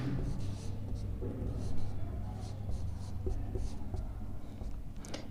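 A marker scratches across a board in short repeated strokes, faint and close, while someone talks continuously over it.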